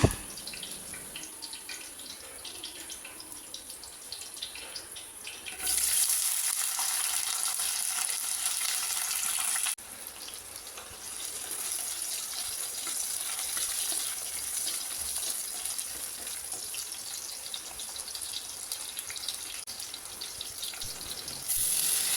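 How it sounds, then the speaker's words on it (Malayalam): Shallots, garlic and ginger sauté in oil in a pan for a Kerala sardine curry, giving a steady sizzling hiss that swells louder midway, with no talking. "ചെറിയുള്ളി വെളുത്തുള്ളി ഇഞ്ചി ഇത് എണ്ണയിലൊന്ന് വഴറ്റിയെടുക്കുക"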